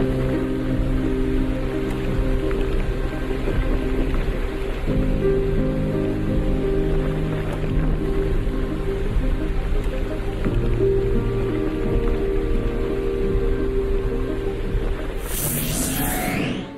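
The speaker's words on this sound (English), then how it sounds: "rain continued to pummel the country" A torrential rain downpour pours down in a dense, loud, unbroken roar of rushing water that holds steady throughout with no voices.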